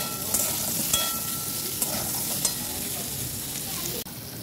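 Pointed gourd pieces frying in hot oil with turmeric and salt, a steady close sizzle with a few sharp utensil clicks and scrapes as they are stirred in the pan.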